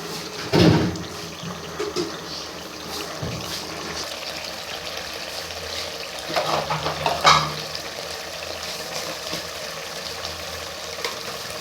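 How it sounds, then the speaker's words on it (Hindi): Oil sizzles steadily in a pan as it heats and roasts, a home kitchen breakfast-and-lunch cooking scene, with a louder burst of stirring near the start and another around the middle, no talking. "अब इस टाइम पे मैं इसमें तेल डाल के अच्छी तरह भुनाई कर लूँगी।"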